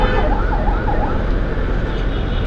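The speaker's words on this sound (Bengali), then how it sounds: "যা ভাই অ্যাম্বুলেন্স, রোগী থাকলে ভালো, না থাকলে আলহামদুলিল্লাহ।" An ambulance siren wails in repeated rising and falling sweeps, loud and close over a road-traffic rumble, with no talk.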